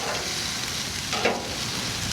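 Shrimp threaded on metal skewers sizzle steadily on a hot grill, a dense continuous hiss with a brief scrape or shift partway through, close and fairly loud with no talking.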